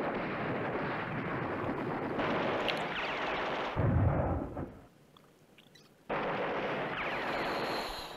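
Bombardment in the war strategy game Command Ops 2: a dense, continuous rumble of explosions and artillery-like blasts with a heavy low boom near the middle, briefly dropping to quiet before the barrage resumes at full strength.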